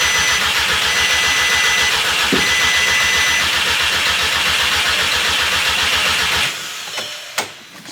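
Starter cranking a VW Mk6 GTI engine that fails to fire, a loud steady rhythmic churn of rapid pulses lasting about six seconds before cutting off, followed by a few faint clicks and knocks.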